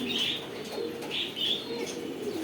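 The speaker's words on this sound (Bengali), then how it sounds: "মাটি কবুতরগুলো ছাড়া হলো" Giribaz pigeons being released, with bursts of flapping wings and soft cooing mixed over a steady background hum.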